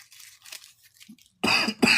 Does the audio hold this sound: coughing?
yes